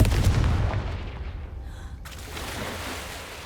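A Confringo explosion spell in Hogwarts Legacy lands with a loud, booming burst at the start, then fades into a rumbling decay and quieter ambient game sound.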